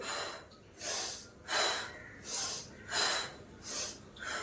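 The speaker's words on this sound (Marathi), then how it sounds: "श्वास भरत पुढे श्वास घे सोडत मागे" Rhythmic heavy breathing during a seated yoga-style exercise, five or six loud breathy inhales and exhales in a slow, steady cycle, close and with no talking over it.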